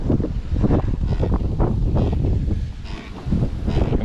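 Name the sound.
wind blowing over a kayak on the water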